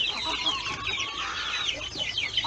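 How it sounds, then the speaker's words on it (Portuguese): Week-old newly hatched chicks peep in high, busy chirps while adult chickens cluck nearby in a crowded backyard coop, a close and continuous chorus with no talking. "devido aos novos pintinhos que eclodiram uma semana atrás"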